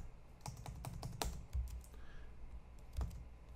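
Typing on a computer keyboard, a quick irregular run of crisp key clicks and a few heavier thumps, close and fairly quiet, with pauses between bursts.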